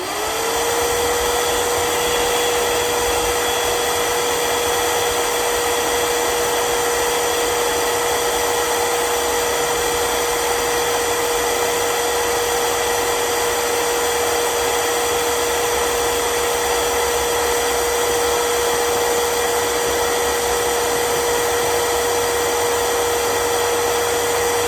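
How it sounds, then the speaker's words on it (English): A shop vacuum set to blow runs steadily for the whole stretch, blowing hulls off threshed hulless oats with a constant loud whine and airy rush; no speech. "just use a shop vacuum and put it on the blower cycle and just blow this, and it blows most of the holes away"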